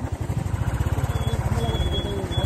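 A motorcycle engine chugging along a muddy dirt track through a dense forest reserve, steady low pulsing throb close by with faint background noise, no talk.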